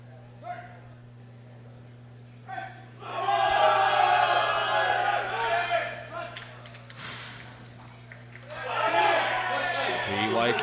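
Crowd at a powerlifting competition, the World Sub-Junior and Junior Powerlifting Championships, cheers for a Brazilian lifter; loud swells of cheering and shouting rise twice, with a steady low hum underneath.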